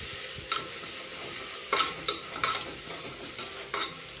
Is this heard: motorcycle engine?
no